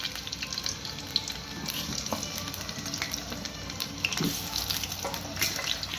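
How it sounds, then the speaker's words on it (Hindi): Potatoes frying in hot oil in a pan for a masala fish curry, a steady close sizzle and crackle with occasional louder pops, continuous without talk. "इससे पहले जो हमने फिश करी में डालने के लिए आलू रखा है उसको फ्राई कर लेंगे"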